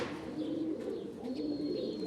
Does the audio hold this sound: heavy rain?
no